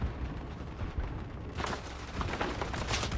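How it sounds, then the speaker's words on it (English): Gunfire in the historical first-person shooter Isonzo, set on the Italian front: scattered distant shots and booms, with a dense burst of overlapping fire in the second half. "I hear gunshots already."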